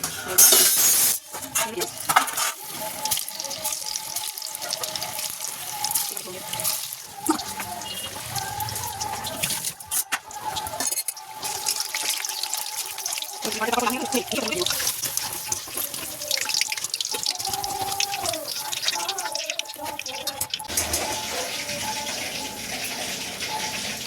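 Chicken pieces frying in hot oil in a wok for chilli chicken, a steady hissing sizzle with crackles and spatters over about twenty-four seconds, with a voice heard now and then.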